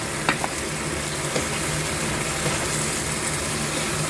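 Grouper with bitter gourd sizzles steadily in a frying wok, with a few light scraping clicks of a spatula stirring and scooping through the pieces close by, and no talking.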